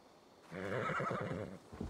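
After a brief quiet moment, a single loud, quavering whinny from a horse in Assassin's Creed Valhalla, lasting over a second and ending with a short snort.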